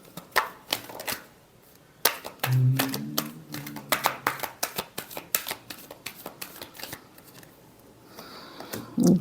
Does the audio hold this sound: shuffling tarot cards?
yes